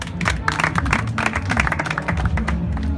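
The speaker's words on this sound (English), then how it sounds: "please clap for him" An audience at an English language club event in Sudan claps steadily, with dense, close hand claps filling the room throughout.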